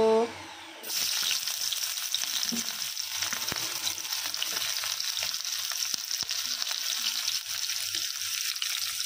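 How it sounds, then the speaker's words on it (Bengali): Onions hit hot oil in a wok with a sudden burst of sizzling, settling into a steady, close frying crackle that keeps going to the end. "কড়াই তেল গরম হয়ে গেছে। এবারে পেঁয়াজগুলো দিয়ে দেবো।"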